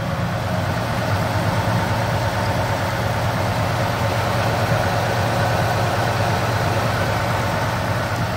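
A 1954 Ford Crestline's V8 engine idles steadily and evenly, a continuous low rumble with a throaty pulse, fairly close and without interruption.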